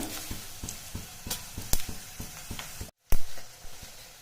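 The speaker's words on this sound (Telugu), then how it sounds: "టేబుల్ స్పూన్ ఆవాలు వేస్తున్నా" Mustard seeds, a tablespoon of them, sizzling and crackling in hot oil for tempering a tomato chutney on a new stove, with steady frying hiss, rhythmic stirring scrapes and a brief break partway through.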